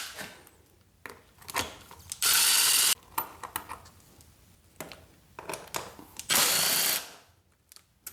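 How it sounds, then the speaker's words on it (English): A ratchet backs out bolts on the lower front fairing of a Yamaha R6 motorcycle, with bursts of quick clicking separated by pauses and two louder, sustained spinning ratchet runs, close up. "We're gonna be removing this bolt and then this bolt here in the front."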